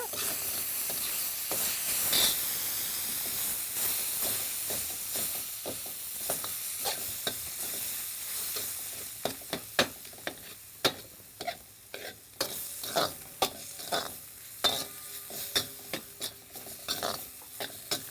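Partly cooked dried peas being mashed with a spoon in a pan for sundal masala, continuous soft sizzling and stirring scrapes that give way to sharp, repeated metallic taps and clicks in a loose rhythm.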